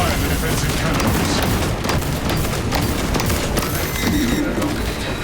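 Defensive cannons firing in the video game Warhammer 40k Space Marine 2, a dense, continuous roar of booming blasts and battle noise that stays loud and steady without a pause.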